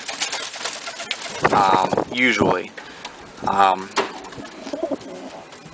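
A male pigeon coos in a few rhythmic bursts close by, interspersed with a person talking.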